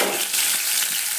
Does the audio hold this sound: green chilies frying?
yes